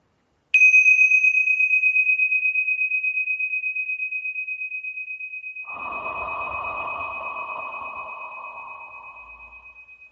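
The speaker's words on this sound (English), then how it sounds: "we'll just ring the tingsha bells here to clear out our energy" Tingsha bells struck once, a bright sustained ring that slowly fades, followed a few seconds later by a softer shimmering second tone layered over the lingering resonance.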